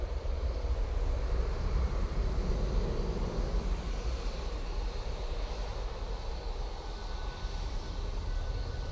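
An easyJet jet climbs away from Manchester Airport, a steady broad engine roar that holds loud and even throughout with slight wind rumble.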